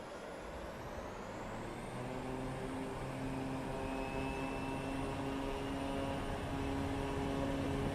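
A propeller airplane in Microsoft Flight Simulator throttles up for takeoff at Merrill Field in Anchorage, Alaska, giving a steady, continuous engine drone that rises slowly in pitch and grows gradually louder, with no voices.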